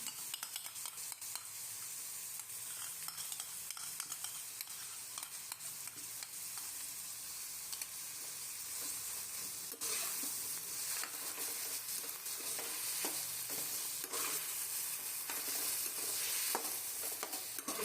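A spoon stirs chicken jalfrezi with ketchup in a hot pan, scraping and sizzling steadily in close, continuous strokes with no one speaking.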